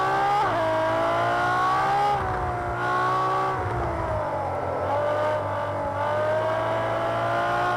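A Ferrari V-engine revs hard up to its 9,000 RPM red line on a track, then the engine note drops as the car brakes and shifts down through the gears, loud and continuous throughout.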